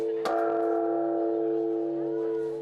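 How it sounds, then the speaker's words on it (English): A large traditional temple bell is struck at midnight in Japan to mark the New Year: one deep, loud strike rings out and sustains with a long, slowly fading hum. "a more muted approach in Japan, with the traditional ringing of the bell at midnight to mark the end of the old and bring in the new"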